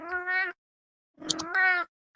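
A cat meows twice up close, two clear, drawn-out cries separated by a short pause, with no talking around them.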